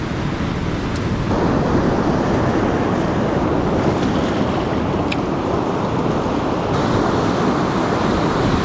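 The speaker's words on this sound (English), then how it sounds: "Some of those waves are bloody big." Large waves break along the shore at a bay entrance where a lure angler fishes for bass, a constant loud roaring wash of surf mixed with wind buffeting the microphone.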